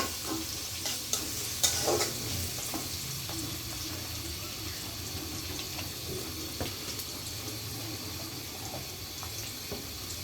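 Chopped onion and prawns fry together in a pan, a continuous close sizzle broken by scraping stirs and occasional clinks of a utensil.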